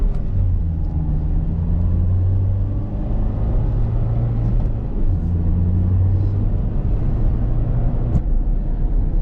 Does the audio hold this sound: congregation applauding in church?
no